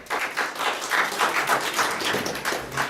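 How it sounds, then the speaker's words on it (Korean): An audience at a medical forum claps in a steady, fairly close patter that swells and holds for a few seconds, with no voices over it. "박수 부탁드립니다."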